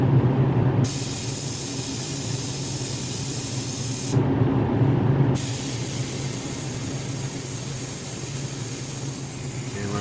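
A steady airbrush hiss runs throughout, with two short pauses where the spray cuts off before resuming at the same level.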